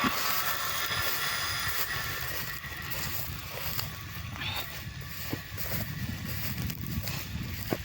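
A pump draws water from a borehole well and pours it out in a steady, rushing, churning stream heard up close, with a few faint knocks and clicks.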